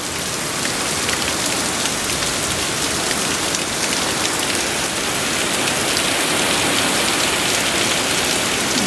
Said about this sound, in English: Yep, torrential rain.